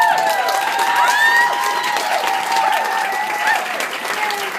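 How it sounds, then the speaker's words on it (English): Loud audience clapping at an animal advocacy event honoring Lisa Shapiro, a dense sustained round with cheering and whoops rising over the crowd. "Can we give her a round of applause?"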